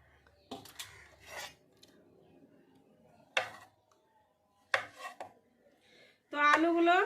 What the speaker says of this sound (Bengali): তো আমি প্রথমে আলুগুলো কেটে নেব।